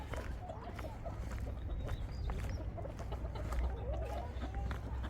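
Chickens cluck steadily in an elementary school's chicken coop outdoors, several birds calling close by in overlapping bursts over a constant low hum, with occasional voices in the background.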